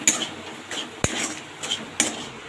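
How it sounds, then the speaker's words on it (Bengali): A utensil stirs stuffed pointed gourd dolma in a cooking pan, giving a few sharp metallic clinks and scrapes spaced roughly half a second apart, close and fairly quiet. "এবারে নাড়াবো"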